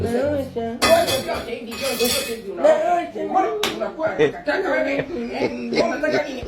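Dishes and cutlery clink in short bursts around a home kitchen, nearly buried under loud, overlapping talk and bits of laughter.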